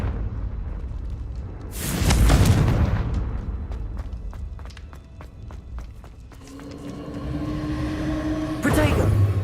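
Confringo fire spell exploding in the video game Hogwarts Legacy, a loud booming blast around two seconds followed by crackling, footsteps and game effects, with another burst near the end.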